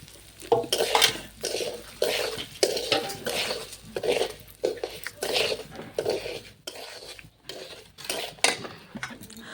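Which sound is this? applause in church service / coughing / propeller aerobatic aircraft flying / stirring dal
stirring dal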